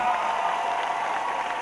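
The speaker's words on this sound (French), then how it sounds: "Veuillez applaudir une fois de plus" Audience applause at a comedy and music show, a steady wash of clapping with a tonal hum running through it, brief and fairly loud.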